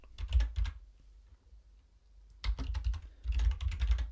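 Someone types on a computer keyboard in two bursts of close, quick key clacks with a short quiet gap between them.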